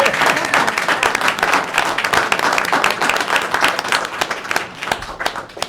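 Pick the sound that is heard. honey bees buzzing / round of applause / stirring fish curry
round of applause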